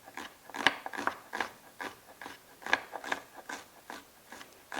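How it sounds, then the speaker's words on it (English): A knife slices and dices shallots on a cutting board for shrimp and grits, giving steady crisp chopping taps in an irregular rhythm, close and moderately loud with no talking. "So I'm just going to slice it up here"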